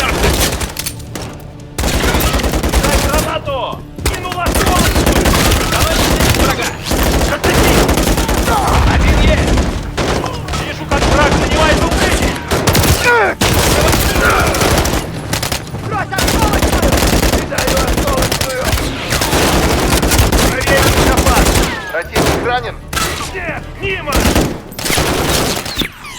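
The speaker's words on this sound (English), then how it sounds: "RPG down. Turret's pinning us, Captain." Enemy turret machine gun fire in Call of Duty Modern Warfare 3 campaign combat, loud sustained bursts of automatic gunfire with brief gaps, dense and close, with voices mixed in.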